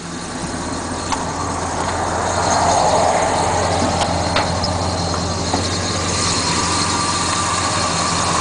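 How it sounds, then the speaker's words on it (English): Oldsmobile 442 V8 engine idling steadily and smoothly nearby, a continuous low rumble with a constant hum, alone without voices for several seconds. "Motor's nice and quiet."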